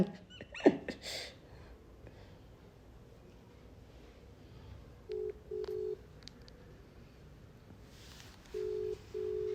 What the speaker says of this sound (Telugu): ఒకసారి అన్నకైతే ఫోన్ చేద్దాం